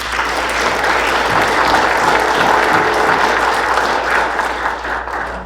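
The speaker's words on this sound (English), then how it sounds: "How about a round of applause for our candidates?" Audience at a Merced County supervisor debate applauds the candidates, a steady, dense wash of clapping that holds at full strength for the whole stretch, with no talk over it.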